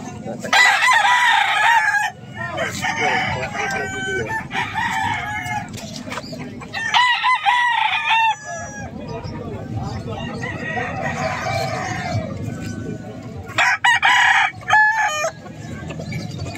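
Several roosters crow loudly and repeatedly amid clucking and a busy crowd of voices talking nearby at an early-morning Saturday chicken market in San Carlos, Pangasinan, Philippines.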